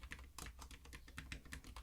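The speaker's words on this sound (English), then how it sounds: "Now if I type print greeting" Fingers type on a computer keyboard, a quick, irregular run of light clicking keystrokes, close but very quiet, with no voices.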